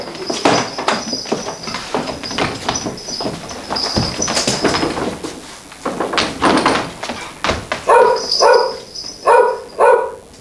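An actor imitating a dog in an amateur Peter Pan pantomime on stage: loud barking, yapping and snorting sounds, irregular at first, then a run of five rhythmic barks near the end.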